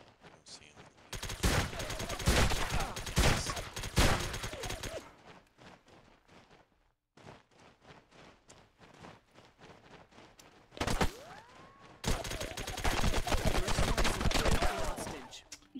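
Dense bursts of video game gunfire from a Call of Duty-style online pickup match, loud and close, with rapid volleys, brief pauses, then more heavy shooting.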